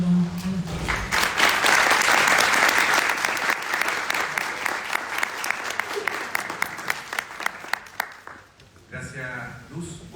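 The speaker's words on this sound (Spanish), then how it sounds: "Con un gran aplauso los recibimos a los dos." An audience at a book presentation at a Chilean university breaks into loud, dense applause to welcome two guests. The clapping thins into scattered individual claps before a voice begins speaking at the end.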